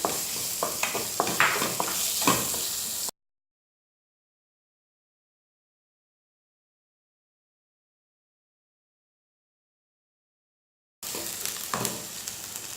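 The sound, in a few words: onions sautéing in a pan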